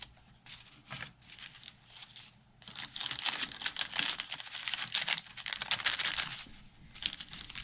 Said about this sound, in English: this is coffee dyed glassine bag, and I embossed it